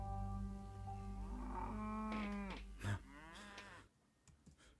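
Cattle stranded in an Australian flood moo in a long, drawn-out call that rises and falls, heard close and clear, followed by a few faint clicks.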